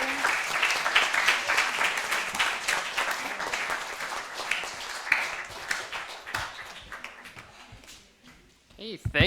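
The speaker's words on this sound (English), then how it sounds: "let's give everyone a round of applause" Congregation at a Sunday church service claps in a warm round of applause that gradually thins and fades, with voices rising briefly near the end.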